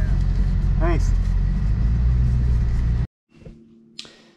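A supercharged Dodge Challenger Hellcat Redeye Super Stock engine rumbles loudly and steadily at close range under wind noise, then cuts off abruptly, followed by brief quiet cabin sounds and a voice.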